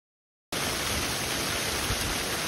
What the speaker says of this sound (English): It's falling ice, hail.